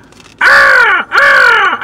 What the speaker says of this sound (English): Oh, you want to hear the crow.